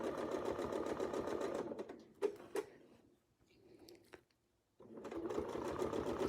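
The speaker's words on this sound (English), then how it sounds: "I'll take a few stitches to tack" A sewing machine takes a few tacking stitches, a rapid close mechanical whir that stops, gives a couple of soft clicks in a quiet pause, then starts stitching again.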